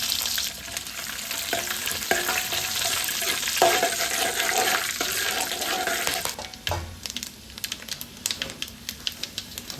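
Whole spices such as cloves, peppercorns and cumin frying in ghee and oil for Thalassery mutton biryani, stirred to keep them from burning: a loud, dense, crackling sizzle that thins after a few seconds into scattered scrapes and pops.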